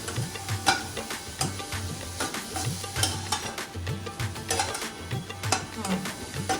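Ingredients for a colourful laddu fry and get stirred in a thick, heavy-bottomed pan, giving a continuous sizzle with rhythmic scraping strokes about once a second, loud and close, with no speech over it.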